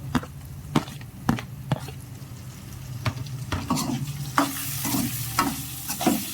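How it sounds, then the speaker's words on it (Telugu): Tomatoes fry in a pan for a home-style curry. A spoon scrapes and clanks against the pan in repeated stirring strokes, and the sizzle swells louder toward the end, close and without voices. "ఒక 2 మినిట్స్ తర్వాత ఇందులోనే టమాటాలు వేసుకోవాలి"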